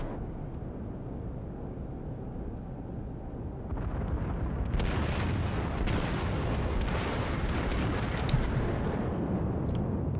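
Battleship secondary guns firing in World of Warships, heard as a low rumbling roar that swells after a few seconds into a dense, continuous barrage of booms, loud and sustained with no talking.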